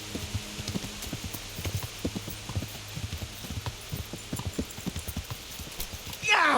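Rapid, rhythmic hoofbeats of a galloping horse in the video game Kingdom Come: Deliverance, fairly close and continuous, ending in a sudden louder burst.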